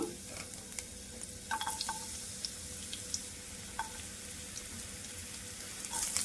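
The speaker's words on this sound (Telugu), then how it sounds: "కొద్దిగా ఆయిల్ పెట్టేసుకొని దాంట్లో కొంచెం వెల్లుల్లి తరిగి పెట్టుకున్నా" Chopped garlic sizzling in a little oil, a soft steady frying hiss with occasional stirring clinks and scrapes, fairly quiet and close, with no talking.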